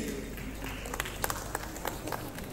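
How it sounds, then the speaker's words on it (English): An auditorium audience at a company's 40th anniversary celebration claps for the departing chief guest, a steady wash of applause with scattered louder individual claps, fairly close. "a big round of applause for the chief guest of honor of today's event"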